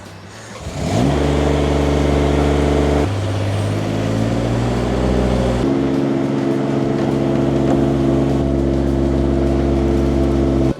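A lift platform's engine is started from the basket on a rooftop job washing solar panels. It catches with a short crank, then settles into a loud, steady idle that shifts pitch slightly as it runs.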